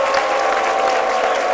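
A TV studio audience applauds to welcome a guest, a steady, dense wash of clapping from many hands, loud and continuous throughout.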